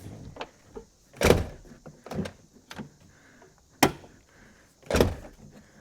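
The front door of a GM OBS Chevy/GMC truck with a replaced check link roller and pin swings repeatedly, giving several sharp pops and clunks spaced a second or so apart, up close with quiet pauses between.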